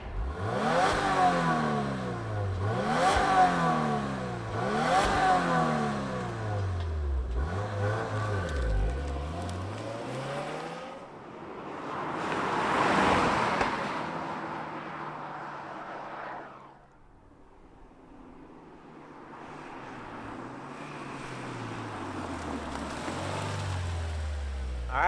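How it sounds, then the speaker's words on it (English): The flat-four turbocharged engine of a 2024 Subaru WRX TR is blipped through repeated sharp revs that rise and fall, settles briefly, then revs again in a long climb before dropping to a rumbling idle and building once more, heard up close without talk. "let's fire up this flat 4 turbocharged engine and hear what it sounds like"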